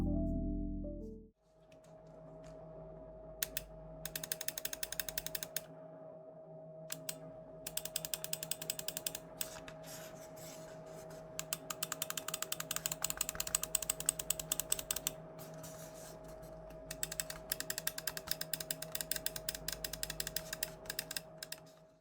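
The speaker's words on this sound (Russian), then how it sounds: "Звук от нажатия равномерный по всей поверхности лепестка, но сила нажатия все же возрастает ближе к основанию." Rapid clicking from the buttons of a Pulsar X2N Crazylight gaming mouse, close and crisp, arriving in dense irregular bursts over a steady faint electrical hum, with no voices.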